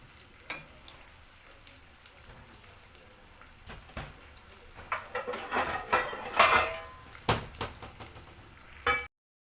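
Eggplant sizzles as it fries in a pan on a home stove, with irregular clinks and scrapes of utensils against cookware that build louder toward the end, with no talking.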